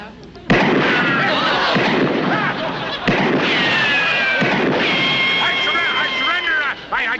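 Gunshots in a staged comedic Western duel, a sharp loud blast followed by another crack a few seconds later, with whistling, ringing tones and background commotion between them.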